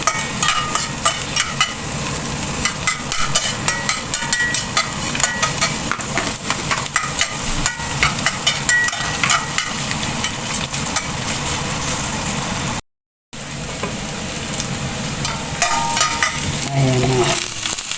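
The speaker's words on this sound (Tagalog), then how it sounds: "sunod kong lutuin yung repolyo. Yan, yan ang lunch ko for today. Kasama nung tofu." Cabbage and tofu stir-fry in a hot pan, a loud, close, continuous sizzle with scraping stirring strokes throughout and a brief dropout near the end, no talk.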